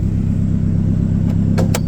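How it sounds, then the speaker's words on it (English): A 2009 Mazdaspeed 3 engine idles with a steady, loud low rumble close by, joined near the end by a few brief clicks or knocks. "But anyway, the car is running."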